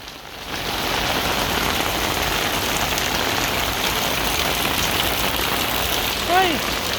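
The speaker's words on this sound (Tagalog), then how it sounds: "ulan lakas lumakas na naman" Heavy typhoon rain from Dante pours down steadily and loudly on surfaces, a dense continuous hiss close by, with a brief voice-like sound near the end.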